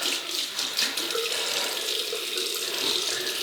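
Tap water runs steadily into a sink to refill a container before a shave, a close continuous splashing hiss with no speech.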